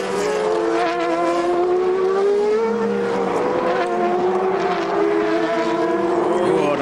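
GP2 race cars at the Bahrain circuit, with tyres being punished under hard braking and lock-ups; loud, sustained engine roar with shifting pitch as cars pass, continuous and near.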